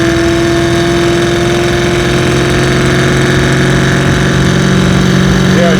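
A procharged 800 hp LT4 V8 in a 1968 Chevy Camaro, a loud, steady low engine drone with a fixed tone, heard from inside while driving at low RPM and rising slightly near the end.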